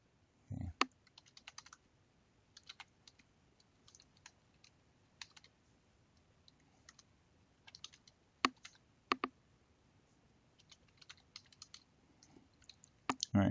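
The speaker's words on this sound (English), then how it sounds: "All right, so as I'm typing," Typing on a computer keyboard while editing a Google Docs document: sparse, irregular clicks and short bursts of keystrokes, close and fairly quiet, with no talking.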